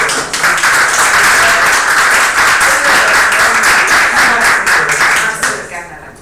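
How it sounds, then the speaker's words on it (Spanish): Clapping from a lecture audience at a social health research session in Mexico City, a loud burst of applause that holds steady and then tapers off at the end. "Vamos a dar un aplauso"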